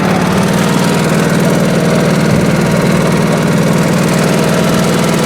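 A 1986 Honda HT3810 lawn tractor runs in fourth gear with its engine droning steadily and close by, a constant low rumble with no letup and no voices over it.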